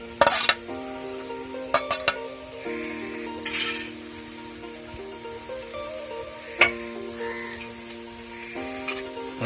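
Sliced onion and coconut pieces fry in a pan for a homestyle beef curry, a continuous sizzle with occasional clinks of a spoon against the pan over a steady background tone.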